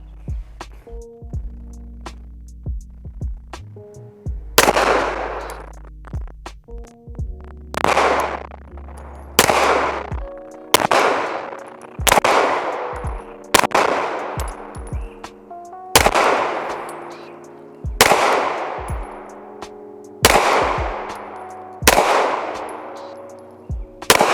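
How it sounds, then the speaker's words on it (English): A CZ75 Shadow pistol fires at a target 10 yards away, about ten loud, sharp shots with ringing decay, spaced roughly two seconds apart after a few quiet seconds, heard outdoors with no talking. "CZ75 Shadow at 10 yards. All right, here we go."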